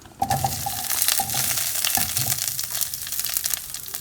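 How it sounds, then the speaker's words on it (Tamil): Curry leaves and mixed vegetables, drumstick among them, frying in oil for sambar: a bright hissing sizzle with a few clinks and stirring scrapes, close and steady, no voices. "எண்ணெயிலே வதங்கியும் அதே மாதிரி கருவேப்பிலை பொறிஞ்சு வந்துடுச்சு"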